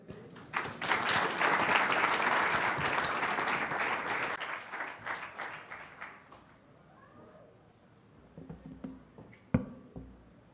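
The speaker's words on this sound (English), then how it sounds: "Ladies and gentlemen, a hearty round of applause for Honorable Donatil" Audience applause at the opening session of the Commonwealth People's Forum 2022 in Rwanda, a dense burst of clapping for about six seconds that fades, followed by scattered faint claps and small sounds.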